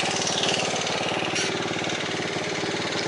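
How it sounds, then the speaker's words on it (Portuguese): A motorcycle engine running low on reserve fuel, a close, loud, steady buzzing rumble with a slight lift in revs partway through, unbroken for the whole few seconds. "Acelera agora, se ele apagar, eu acho que não liga mais"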